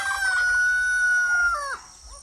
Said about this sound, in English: rooster, chicken crow